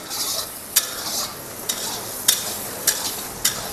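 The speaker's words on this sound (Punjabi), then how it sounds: "ਤੜਕਾ ਹੁਣ ਆਪਣਾ ਰੈਡੀ ਹੈ ਤਿਆਰ ਹੈ ਜੀ ਹੁਣ ਇਹਦੇ ਵਿੱਚ ਚਿਕਨ ਮਿਕਸ ਕਰਨਗੇ ਜੀ" Chicken pieces stirred into hot oil tempering for a spicy chicken pickle: a steady close sizzle with sharp scraping clinks of the spoon against the pan at irregular intervals, no voices.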